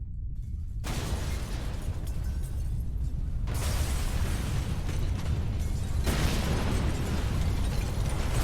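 A massive explosives blast in a video game roars continuously, a dense, loud rumbling wall of fire and debris that swells and shifts without pause, with no voices.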